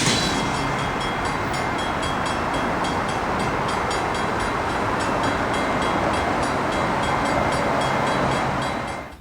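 Santa Fe diesel locomotives lead a westbound train curving into Pittsburgh, California: a loud, steady engine drone with a rhythmic clatter of wheels over rail joints that fades at the end.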